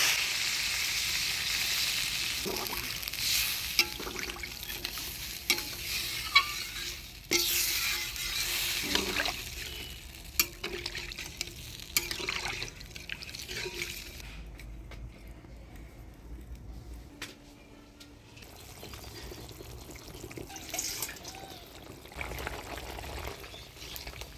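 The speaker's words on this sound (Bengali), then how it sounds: "সাথে আলু সিমটা ভালো করে কষিয়ে নিলাম এবার জল দিয়ে দিই" Frying potatoes and flat beans sizzle steadily in a pan for a Bengali pabda fish curry as water is poured in, leaving a loud, broad hiss that settles into a gentler bubbling sizzle.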